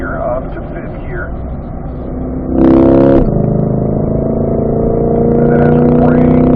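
A 2020 Corvette C8 accelerates on the Spring Mountain track, its engine rising in pitch, then a quick upshift into fifth gear brings a brief loud burst before the steady high drone resumes, heard from inside the car.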